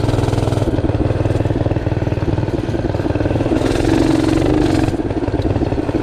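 A minibike fitted with a Tillotson 212R race engine runs close by, a loud, continuous chugging engine note that swells briefly in the middle before settling back.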